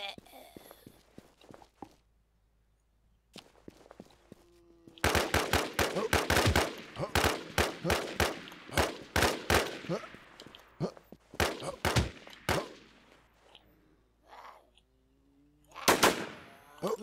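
Sharp gunshots ring out in the online zombie shooter Infestation, first a few light shots and footsteps, then a dense cluster of loud bursts with a final pair near the end, while a player talks.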